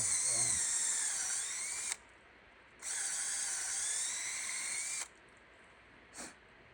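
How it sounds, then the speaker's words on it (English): A power drill whines in two long high-pitched bursts with a short pause between while boring a hole into a maple tree for tapping, then a brief final blip as it winds down. "go ahead and drill my hole into"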